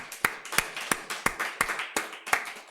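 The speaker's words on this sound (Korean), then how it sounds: "주님께 감사의 박수 한번 올립시다." Church congregation clapping together during a Sunday morning worship service, about eight loud rhythmic claps in a steady beat, each a sharp crisp burst, with no talking.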